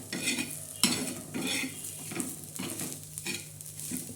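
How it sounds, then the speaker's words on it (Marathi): Black masala for chicken curry frying in a pan, with a spoon scraping and stirring it in repeated strokes over a soft sizzle, close and clear with no talking. "हा बघा हा मसाला कसा मस्त भाजलेला आहे"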